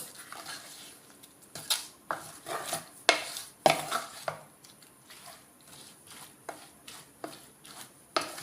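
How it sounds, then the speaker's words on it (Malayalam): A mixture stirred in a clay pot, a series of irregular scraping knocks and clatters of a spoon against the pot, some sharp, repeating every half second or so without speech. "ഈ ചട്ടിയിൽ വെച്ചിരിക്കുന്ന മിക്സിയെല്ലാം നന്നായിട്ടൊന്ന് ഇളക്കി കൊടുക്കണം"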